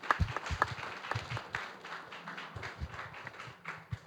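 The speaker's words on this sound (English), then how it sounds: "Round of applause." Scattered, uneven clapping from an audience at a startup pitch event, sparse individual claps rather than a full ovation, moderately close and lasting a few seconds.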